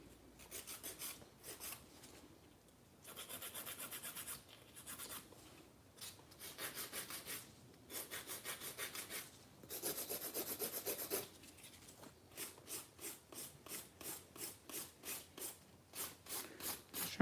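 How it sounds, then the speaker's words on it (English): A nail file strokes across acrylic nails during a full set, making soft, quiet rasping scrapes in short bursts, then a quicker, regular back-and-forth rhythm near the end, close and alone. "Just remember when you're filing, just file with a purpose."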